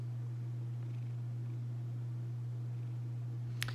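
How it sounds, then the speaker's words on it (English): A cat curled up in someone's lap purrs close by in a steady, continuous low rumble, with one brief click near the end. "I have a cat in my lap."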